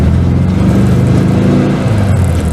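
A small VW car with roughly 50 horsepower accelerates on the road, its engine droning loudly and steadily from close by, with the pitch holding through the run and no voices.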